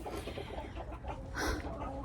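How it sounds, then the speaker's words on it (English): Chickens cluck near a goat stall in a converted coop, a quiet jumble of short, overlapping clucks with no voices. "And all of those chickens fly up here and roost on the top."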